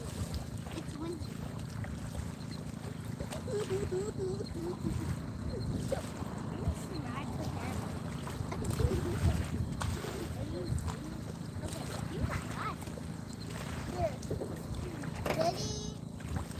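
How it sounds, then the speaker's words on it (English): Wind buffets the microphone over a low, steady rumble on open water, with voices talking intermittently in the background. "It's windy."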